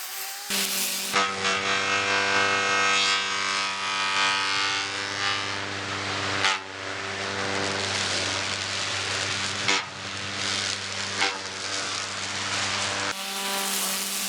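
STIHL string trimmer fitted with a PolyCut 28-2 blade head cutting St. Augustine grass, a loud steady high-revving whine with brief dips as the head bites into the turf, alone without voices.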